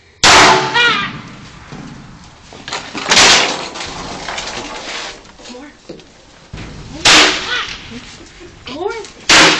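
Fireworks set off inside a homemade Mexican-style Rube Goldberg machine: several sharp, loud bangs and cracks burst out at intervals, mixed with crackling and clattering, while people talk and react between the blasts.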